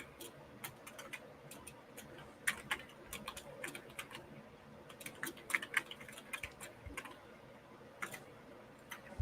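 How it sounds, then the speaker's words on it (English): Keys on a computer keyboard click in a quiet, irregular patter of fast taps, soft and close, continuing without talk. "Oh, I was already typing it."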